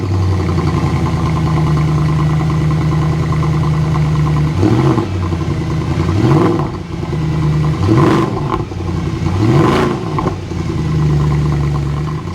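Mercedes C63 with a 6.3 litre V8 idling with a deep loud rumble, then blipped through four sharp revs in quick succession before settling back to idle, close up.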